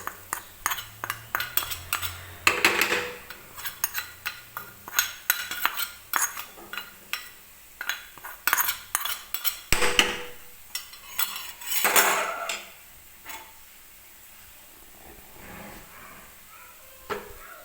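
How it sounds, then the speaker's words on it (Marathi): Fried cashews tipped into moong dal halwa in a pan, with repeated metal spoon clinks and scrapes against the pan, irregular and close, no talking. "तर आता मी हे तळून घेतलेले जे काजू आहेत ते याच्यामध्ये टाकून घेते."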